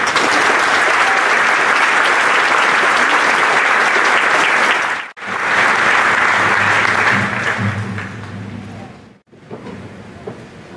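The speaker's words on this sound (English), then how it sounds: "Please join me in applauding them and setting this up for us and appreciating the work" Audience at a Coastal Bend College graduation ceremony applauding, dense and loud clapping that breaks briefly at about five seconds, then resumes and fades out toward the end.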